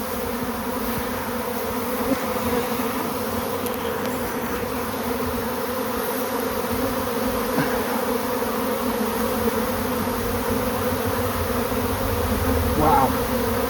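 Honey bees from strong colonies buzz steadily at an apiary, a dense, continuous drone that stays even and close throughout with no talking.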